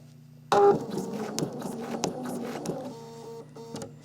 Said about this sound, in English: So now I'm just going to needle down, and I'm going to start quilting.